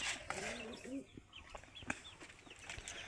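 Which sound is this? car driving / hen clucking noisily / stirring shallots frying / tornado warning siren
hen clucking noisily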